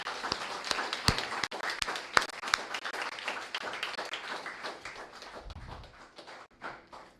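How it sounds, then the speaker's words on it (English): An audience claps in applause at a national law day debate, honoring the debate teams at the close of a round; steady, moderately close clapping runs throughout and thins toward the end, with no voices. "let's give them a round of applause"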